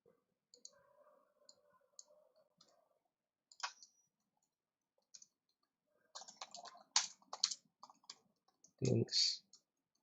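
Keys on a computer keyboard clack in sparse bursts while a SQL query is typed into pgAdmin, the clicks close and crisp, with a voice talking between them.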